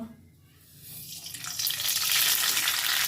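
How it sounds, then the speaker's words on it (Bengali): Mustard seeds sizzle in hot oil left over from frying fish, the crackle building into a steady, close hiss that rises in loudness toward the end. "এর মধ্যে আমি সর্ষে ফোড়ন দিয়ে দেব"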